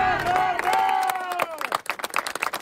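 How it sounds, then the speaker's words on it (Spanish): Clapping and cheers at a police officer's funeral, with hand claps growing more distinct and scattered as a sustained tonal sound fades away. "lo despidieron con porras y aplausos"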